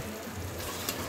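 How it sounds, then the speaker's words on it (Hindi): Chopped tomatoes sizzle in a pan with ginger garlic paste while a vegetable pulao is being made, giving a steady, soft frying hiss with no talking. "आप देख सकते हैं यहाँ पर हमारा जो जिंजर गार्लिक पेस्ट है वो अच्छे से फ्राई हो चुका है"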